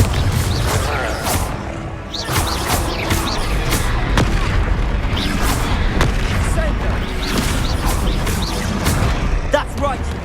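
In the Hogwarts Legacy video game, a Confringo spell blast sets off heavy booms and crashing impacts in a loud, continuous fight. Voices shout over the explosions.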